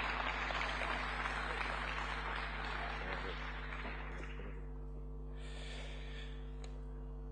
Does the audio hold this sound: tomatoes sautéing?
no